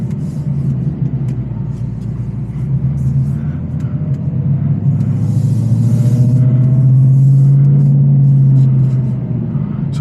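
An 810-horsepower Whipple-supercharged Ford Mustang GT350 drives in sport mode, its deep engine rumbling loud and steady from inside the car and swelling as it revs.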